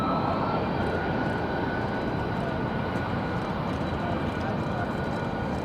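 Aircraft arriving at Raleigh Durham airport, a steady broad roar of jet engines heard at a distance, unchanging and sustained throughout.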